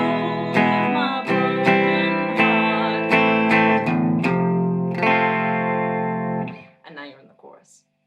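Electric guitar with effects played in rhythmic stabs, a run of sharp repeated chord hits ringing over a low note, then one sustained chord before a few softer plucked notes and a faint voice near the end.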